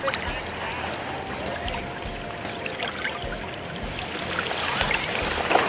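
A small winter creek flows and trickles steadily nearby, a continuous watery wash with faint splashes that swells slightly toward the end, with no clear talking over it.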